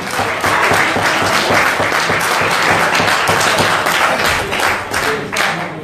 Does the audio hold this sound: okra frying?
no